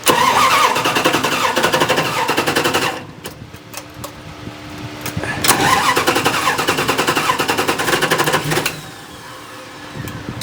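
A warm stroker V8 fitted with a Holley carburetor runs loud and rough, surging at high revs, dropping to a lower idle for a couple of seconds, then revving hard again.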